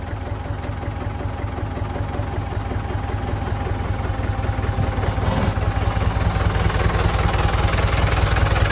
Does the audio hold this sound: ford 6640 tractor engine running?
yes